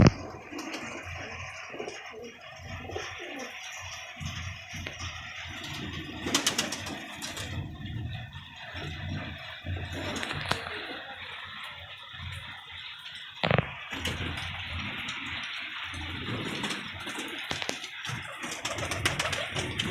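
A female Teddy pigeon coos in soft, low, repeated phrases close by, with faint rustling and the occasional sharper knock or flutter in the background.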